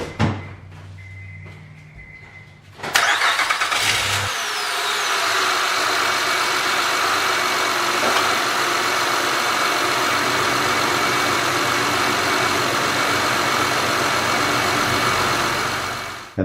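A Honda Odyssey V6 starts after a serpentine belt replacement, a brief clunk and crank giving way to a steady, even idle that holds close and unbroken to the end.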